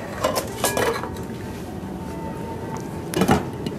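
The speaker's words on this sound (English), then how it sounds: "Put the lid on it." A cooking pot for turkey ragout is handled with metal clinks and a clatter near the start and again near the end, as a lid is set down on it in a home kitchen.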